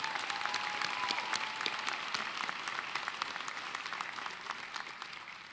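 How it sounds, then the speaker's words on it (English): Applause at a community college commencement ceremony for the student speakers, a large crowd clapping steadily in a big hall, somewhat distant and even, slowly fading over the last seconds. "Let's give them another round of applause."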